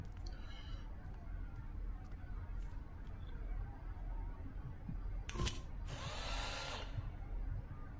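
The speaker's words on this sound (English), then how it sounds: "Drill a hole in the fluid tanks." In the Stasis video game, a drill bores into fluid tanks, a brief harsh whirring burst rising over a low rumbling ambient hum, followed by a hissing spray.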